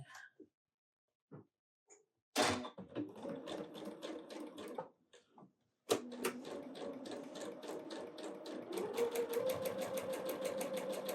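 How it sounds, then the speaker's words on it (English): A sewing machine stitches a quilt snowman's wing in two bursts, a short run then a longer steady whirring stretch with rapid needle clatter, separated by quiet handling. "Sew the wing."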